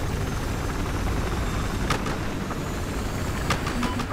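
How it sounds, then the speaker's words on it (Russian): A helicopter in the video game Battlefield Hardline drones with a steady, loud rotor-and-engine roar, with a few sharp clicks and knocks breaking over it. "Прилетаем на вертике."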